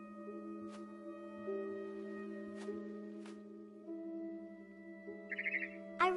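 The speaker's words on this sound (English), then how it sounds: "It was a barn swallow going back to her nest." A barn swallow chirps in the video game What Remains of Edith Finch: a short burst of quick, bright chirps near the end, over a steady tonal hum with a few soft clicks earlier.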